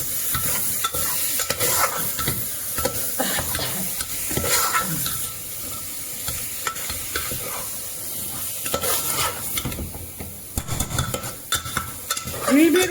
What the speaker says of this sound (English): Now we'll be adding this mince, 300 grams mince, goat mince, to our cooker. And we'll be sauteing it for 2 more minutes